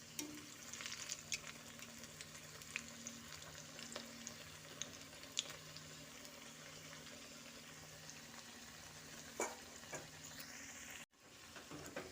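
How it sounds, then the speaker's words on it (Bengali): Radish-greens pakoras fry in oil over low to medium heat, a continuous soft sizzle and crackle with occasional sharper pops and stirring clinks, close by and without talk. "পকোড়াগুলো লো টু মিডিয়াম হিটে মুচমুচে করে ভেজে তুলে নিচ্ছি।"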